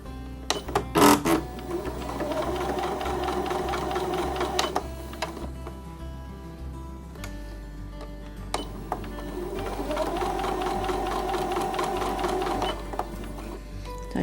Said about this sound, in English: I'm just going to sew a 1/4 inch seam down to that line which I marked